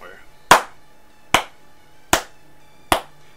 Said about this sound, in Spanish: Por eso no suenan muy bien las, palmas, ¿no? Los aplausos